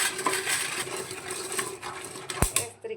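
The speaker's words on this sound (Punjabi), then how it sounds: "ਇਹ ਇਸੇ ਤਰ੍ਹਾਂ ਹੀ ਰਗੜਦੇ ਰਹਿਣਾ ਜੀ ਤੁਸੀਂ ਮੱਧਨੀ ਨਾਲ ਇਹਨੂੰ ਉੱਪਰੋਂ" Black chickpeas roasting and popping inside a pressure cooker as they are stirred and rubbed with a wooden churner, giving continuous scraping and rattling close up, with one sharp knock near the end.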